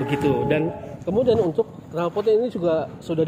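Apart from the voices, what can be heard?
No everyday noise stands out behind the speech.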